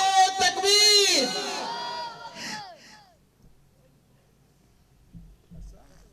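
A congregation at Asma Katon Masjid roars back in unison in response to the Naara-e-Takbir call, a loud, drawn-out chanted shout that swells and then fades, followed by near silence with faint shuffling.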